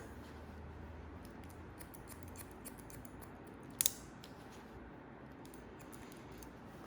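A quick, crisp double snip of scissors cutting hair for a stacked bob, a single brief moment in an otherwise quiet room.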